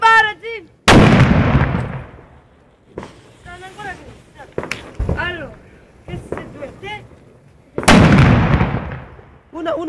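New Year's fireworks go off at a family celebration, with three or four loud sharp bangs spread across the stretch amid excited shouting and talking between the blasts.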